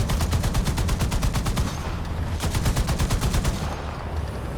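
In War Thunder, a tank machine gun fires in rapid, evenly spaced bursts, two long strings of loud rattling shots separated by a short pause, with no talking.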